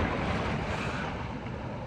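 Ocean waves wash over a beach in a steady, broadband roar with wind noise on the microphone, continuous and close throughout, with no voices.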